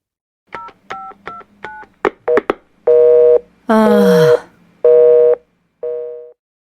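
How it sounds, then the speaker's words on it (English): Telephone keypad tones beep in a quick series of dialing presses, then a loud repeating busy signal sounds in evenly spaced long tones. "The line's busy."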